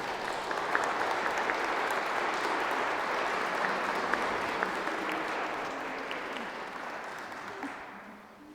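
Churchgoers at a Christmas Mass at Sainte-Anne church clap for a newly baptised child, a full, sustained round of applause that holds steady before gradually thinning and fading near the end.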